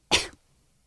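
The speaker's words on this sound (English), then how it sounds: "I have to cough." A single sharp cough, close and fairly loud, lasting about a quarter second before the room falls quiet.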